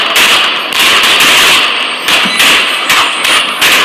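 Gunfire in Port-au-Prince, Haiti crackles as loud, rapid sharp cracks in irregular bursts, layered over a constant harsh background din.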